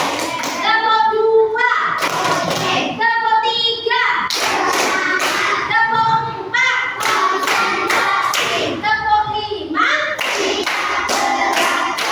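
Children in an Indonesian Islamic school classroom clap their hands in a rhythmic clapping game, loud close bursts of clapping alternating with chanted voices in a repeating pattern.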